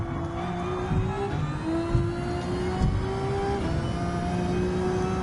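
Race car engines in Gran Turismo 7 during a Vision Gran Turismo Trophy race, with the Bulgari Aluminum Vision GT nearby, loud continuous high-pitched whine and steady revving with several gear shifts, no talking.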